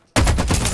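A burst of gunfire rips out in the video game Farlight 84, loud and dense, starting abruptly from near silence and continuing as a rapid stream of shots.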